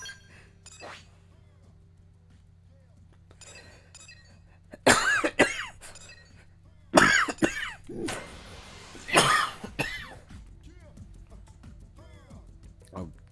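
Several sharp coughing bursts from a character in Xenoblade Chronicles X: Definitive Edition, a single one then two louder fits close together, over quiet background hum with faint breathy sounds between.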